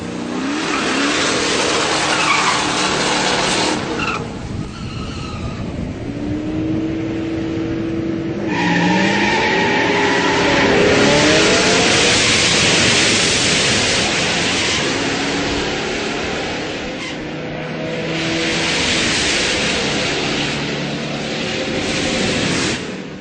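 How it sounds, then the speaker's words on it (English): A muscle car launches on a drag strip, its engine roaring loud and close, with rising revs as it pulls away and tire squeal mixed into the sustained, surging roar. "First two times I lit the tires up a little bit too much."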